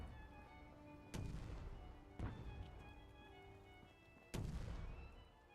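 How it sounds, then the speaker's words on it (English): Three heavy explosions in the Fallout 4 video game, each a sudden deep boom with a long rumbling decay, spaced a second or two apart over a steady low background. "Everything's exploding."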